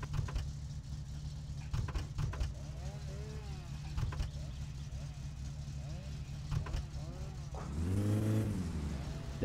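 A car in the driving game My Summer Car engine droning steadily with changing pitch as it drives, revving up loudly near the end, with someone talking over it.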